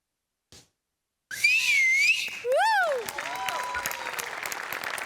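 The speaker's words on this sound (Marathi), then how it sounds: "तुमच्या दोघांसाठी होती शिट्टी" A live audience at a stage comedy show gives loud sliding, rising and falling whistles amid clapping and crowd noise after a dance performance, close and prominent.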